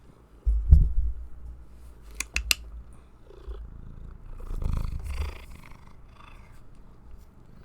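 A cat purrs with a low, rumbling rhythm close to the microphone, with a few soft clicks and handling noises mixed in.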